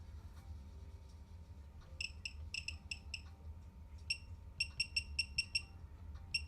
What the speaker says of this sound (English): It's that buzzer.